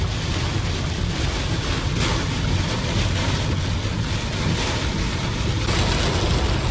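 Dense, continuous roar of heavy rain and gusting wind battering a Kia Syros on a long drive from Chennai to Munnar, loud and unbroken from start to finish with no voices.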